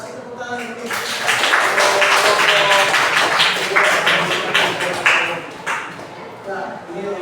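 Classroom audience clapping after a student presentation, a dense burst of many hands applauding steadily for several seconds while voices talk over it.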